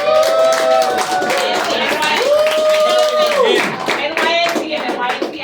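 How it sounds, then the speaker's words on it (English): Staff of the NYC and NYC Action get a round of applause from a crowd, steady clapping running close and loud under overlapping voices and tonal chatter throughout. "Can we give them a round of applause?"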